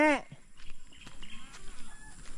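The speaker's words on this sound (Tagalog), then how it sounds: "Ang mga kambing." Goats on a farm, with a sharp nearby bleat at the very start followed by faint rustling, footsteps and soft background movement.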